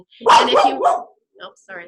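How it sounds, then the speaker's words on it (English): A dog barks a few times close by in a quiet outdoor setting during a water-testing demonstration, a burst of loud barks overlapping a person speaking, followed by softer yips. "that's my dog."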